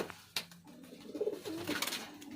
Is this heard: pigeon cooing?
yes